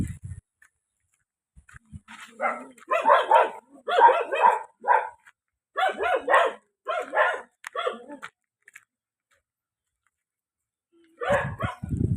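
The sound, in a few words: dogs barking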